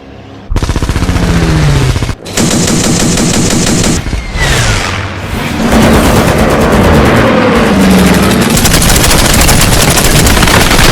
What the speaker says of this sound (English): The sounds of the enemy fire.